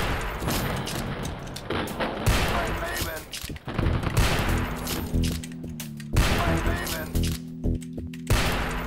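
Rapid gunfire in the shooter Spear of Destiny Extreme: Eisfaust Edition, loud repeated volleys and machine-gun bursts in several clusters with brief pauses, punchy and close throughout.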